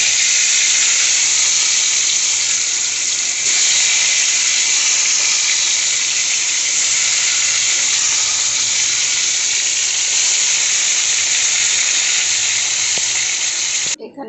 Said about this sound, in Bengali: তেল গরম হয়ে গেছে, ছেড়ে দিচ্ছি।